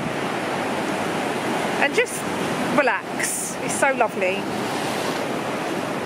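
Sea waves washing on a Malta beach on a stormy day, a steady close roar of surf with a person talking softly over it.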